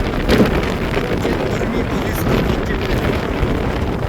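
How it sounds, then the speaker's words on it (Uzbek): Strong wind buffets the microphone on a mountain summit in northern Germany, a steady, loud roar with rumbling gusts throughout, alone with no talk. "Bu tarafda shamol qattiqroq ekan. Meni o'zim ham uchib ketishim mumkin balkim."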